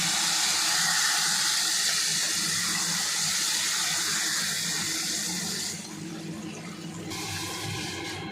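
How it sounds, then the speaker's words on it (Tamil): Tamarind extract poured into a hot tempering pan with chillies and curry leaves for temple-style puliyodharai; a loud, steady rushing sizzle and hiss that dips partway through, then continues. "புளி சாந்து ஊற்றிக்கலாம்."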